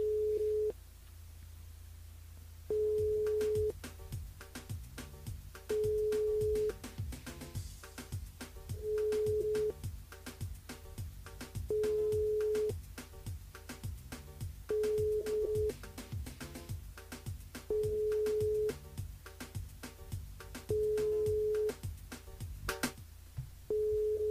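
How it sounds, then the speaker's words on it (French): A telephone line on a live French radio phone-in show gives a repeating tone, short steady beeps at regular intervals over about twenty seconds, with no answer and no talk. "bon, bah ça répond pas, on nous met en attente également"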